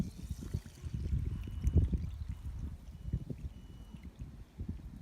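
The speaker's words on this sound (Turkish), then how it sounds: "Şimdi üzerine suyumuzu ekleyelim." Water pours over green olives in a jar for curing, a steady low burbling stream running continuously and fairly close, with no talk over it.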